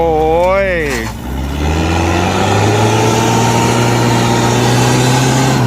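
A dump truck stuck in soft soil while tipping earth, its engine revving hard and holding a loud, sustained rising drone after a brief shout from a man at the start.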